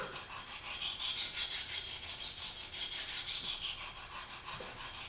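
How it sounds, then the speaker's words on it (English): A sharpening stone in a KME system rubs back and forth over a single-bevel broadhead in a steady, even rasping rhythm, quiet and close with no talk. "you start your grind. Back and forth, nice and easy, letting that stone do the work."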